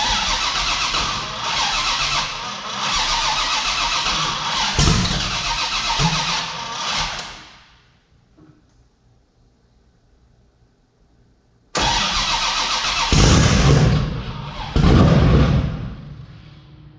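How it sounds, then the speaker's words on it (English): A car with a newly fitted motor that keeps losing its crank signal cranks loudly and continuously for several seconds without catching. After a silent pause, a second long cranking attempt follows. "It's losing crank signal after like 5-10 seconds of cranking. It like wants to start, it'll fucking backfire and pop."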